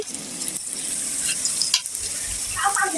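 Food fries in a pan over a wood-burning stove, a constant close sizzle with occasional stirring scrapes and a sharper clink of utensil against the pot near the end.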